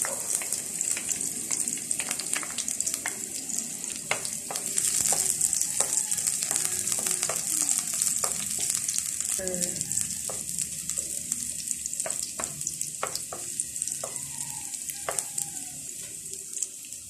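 Chopped onion sautéing in a pan that already holds garlic, part of a coconut-milk vegetable dish, with a steady close sizzle and repeated clacks of stirring throughout and no talking.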